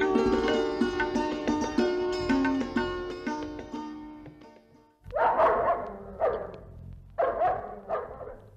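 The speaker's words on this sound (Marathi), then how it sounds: "अरे पण हा टॉबी का भुंकतोय?" A pet dog barks several times in short loud bursts, coming in after a stretch of background music in a Marathi radio drama.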